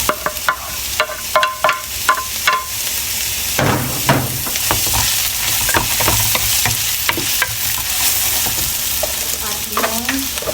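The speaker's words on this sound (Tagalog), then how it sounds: "Pwede na nating ihulog yung carrots" Carrots for pansit sauté in a pan with a loud, steady sizzle close up, punctuated by repeated sharp taps and scrapes of a utensil stirring, with no talking.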